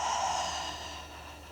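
A single soft exhale of breath during a shoulder breathing drill, a close breathy hiss that fades over a second and a half.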